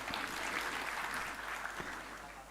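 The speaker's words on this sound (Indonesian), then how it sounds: "Tepuk tangan untuk Bapak Danrem." A crowd claps steadily in a dense, even patter of applause for a couple of seconds, moderately distant, with no voices standing out.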